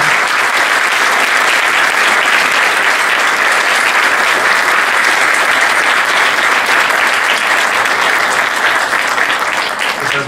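Loud, dense applause from an audience at a university closing ceremony, sustained and even across the whole stretch with only a slight easing at the end.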